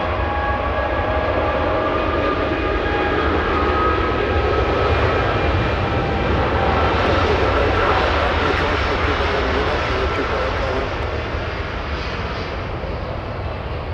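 Boeing 787 Dreamliner jet airliner powering up and moving at Los Angeles International Airport, a loud sustained engine roar with whining tones that swells steadily, heard alone without talk.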